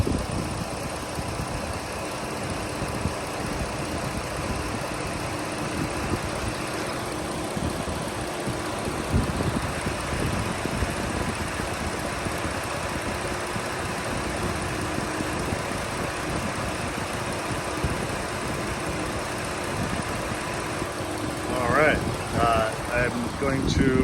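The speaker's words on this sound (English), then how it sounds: "I'm gonna just let you listen here at idle," The engine of a 2012 Dodge Grand Caravan SXT idles under an open hood with a steady, even mechanical hum that holds at a constant level throughout.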